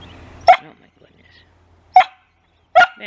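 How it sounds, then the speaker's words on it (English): A rescue dog lets out three sharp, close barks, spaced about a second apart, with near silence between them. "Your bark is very annoying."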